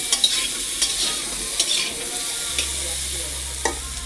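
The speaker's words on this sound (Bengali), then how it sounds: "তাই পটলটা হালকা করে ভেজে নিচ্ছি।" Pointed gourd (potol) fries lightly in a little oil in a pan, a soft steady sizzle with occasional stirring clinks and scrapes and no talking.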